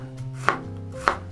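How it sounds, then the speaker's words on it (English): A knife chops an onion finely on a board, giving two crisp, close thuds about half a second apart with quiet in between and no talking. "We're gonna cut the onion pretty fine"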